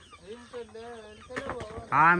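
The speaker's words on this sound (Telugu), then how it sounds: "పెద్ద కోళ్ళు వెళ్ళాయి, మెల్లగా వెళ్తాయి అవి" Chickens cluck and squawk close by, with a louder burst of clucking near the end; a person talks quietly underneath.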